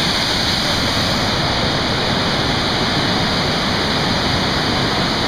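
Swallow Falls, a waterfall on Muddy Creek in Maryland, roars as a loud, steady, close wash of falling water with no break.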